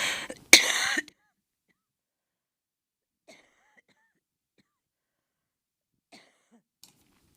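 One sharp, close cough bursts out at the start, then near silence with a few faint small noises.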